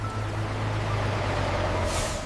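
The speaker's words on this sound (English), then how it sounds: "There's a truck pulling up right behind us" A truck pulls up close behind on a dark road, with a loud steady low engine rumble throughout and a short hiss of air brakes near the end.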